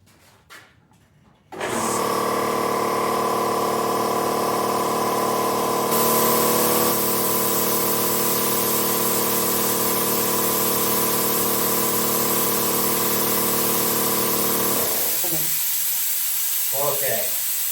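An HA43 air compressor starts up loud and runs steadily with a broad hissing roar from a leaking check valve, the pitch shifting partway through before it cuts off, leaving quiet clatter at the end.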